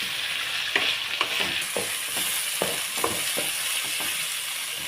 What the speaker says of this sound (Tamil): இதை நல்லா வதக்கணுங்க, இல்லைன்னா இது அரிக்கும்